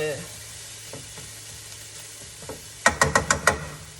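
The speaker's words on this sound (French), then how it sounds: "Et que ça sent bon, hein, de l'ail quand ça rôtit." Garlic roasting in a pan on the stove: a soft, steady sizzle for the first few seconds, then a burst of five or six quick, sharp scraping clatters near the end as the pan is stirred.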